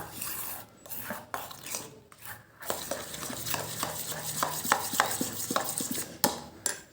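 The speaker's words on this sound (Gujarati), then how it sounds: "હવે એની અંદર આપણે સ્વાદ મીજો મીઠું એડ કરી દઈશું અને હલાવી દઈશું" Gram flour batter with salt added is stirred in a bowl, producing soft, irregular scraping and sloshing with light clicks of a utensil against the rim over a low background hiss.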